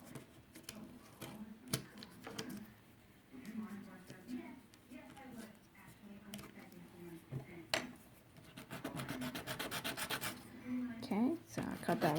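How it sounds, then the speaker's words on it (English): Wood for a miniature barn door is lightly sanded by hand with sandpaper, making quiet scratchy rubbing strokes that grow denser toward the end, while a voice talks nearby. "Then you're going to get your sandpaper, and you're going to lightly sand it."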